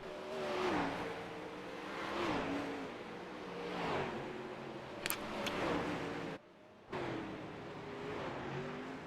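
Sprint cars roar across the finish line of the Knoxville Nationals in a racing video game, a steady loud engine drone rising and falling in waves of revving, with a brief dropout near the end.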